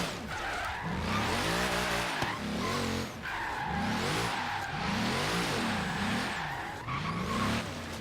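A race car engine in the video game Forza Horizon 3 screams repeatedly, revving up and dropping between shifts in several loud bursts, with tires squealing underneath.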